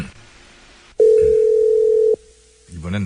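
A telephone gives one loud, steady ringback tone lasting about a second while a call is connected, with voices talking just before and after it.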